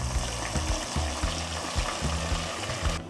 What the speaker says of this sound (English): I'll put my onions to see whether the oil is hot.